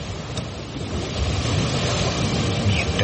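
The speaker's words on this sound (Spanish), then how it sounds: "se desató una tormenta tan fuerte que las olas se metían en la barca" Storm-driven waves surge and break around a small boat at sea, a dense, continuous roar of water and wind that swells slightly louder partway through, with no voices.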